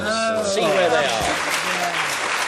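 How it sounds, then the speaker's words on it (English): Studio audience applause at a 1983 television panel game, a dense sustained clatter of clapping with a voice talking over it throughout. "a round of applause for the plucky losers"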